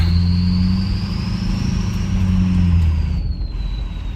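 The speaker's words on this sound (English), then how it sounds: "And then here's just idling." A truck with a 6.0 engine idling in drive, giving a loud steady low rumble with a high whistling tone running over it, close and continuous.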